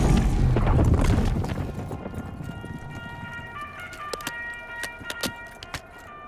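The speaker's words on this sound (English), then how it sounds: "Kaboom!" A game explosion in Call of Duty Black Ops 6 Zombies: a loud, low, rumbling boom at the start that fades over a couple of seconds, followed by scattered sharp clicks and pings.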